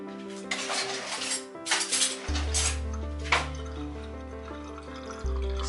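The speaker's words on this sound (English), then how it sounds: "use a spoon to stir, just to get the extra fluid out" A spoon clinks and scrapes against a pot or strainer while a homemade turmeric and ginger drink is stirred and pressed to strain out the liquid, with a few close metallic taps over a low steady hum.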